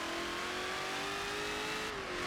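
A Dodge Demon in Forza 7 accelerates hard at full throttle in first gear, its engine note climbing steadily in a loud, continuous roar before easing slightly at the end.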